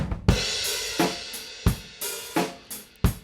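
Distant, roomy drum hits, roughly six loose strikes with broad reverberant tails, captured from across a live room with no voices.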